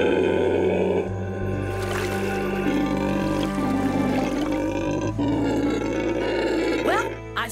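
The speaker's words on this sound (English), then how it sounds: "Howler monkeys!" Howler monkeys in the Amazon roar in deep, continuous, overlapping howls, loud and sustained throughout with low grunting underneath.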